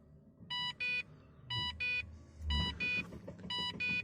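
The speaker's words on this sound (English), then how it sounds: "Turn the ignition on, and I'll get the low fuel alarm." A Holden VY SS with a swapped dashboard sounds its low fuel warning when the ignition is turned on: four pairs of sharp electronic beeps in a steady rhythm, close and clear over a low rumble.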